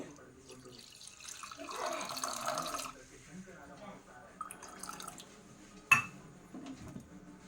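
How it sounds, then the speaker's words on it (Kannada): Water is poured into a pot to make ginger tea, a brief splashing pour followed by a few clinks of kitchenware, with a quiet voice in the background. "ಇವಾಗ ನಾನು ಒಂದು ಕಪ್ ನೀರು ಹಾಕ್ತೇನೆ ಟೀ ಮಾಡಲಿಕ್ಕೆ"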